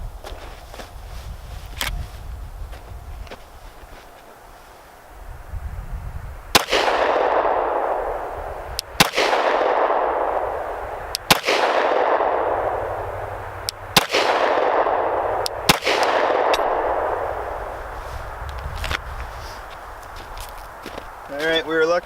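Five sharp pistol shots from an Agency Arms 19 fired weak hand only at a shooting range, spaced about two seconds apart, each loud with a ringing outdoor decay over a steady background hum.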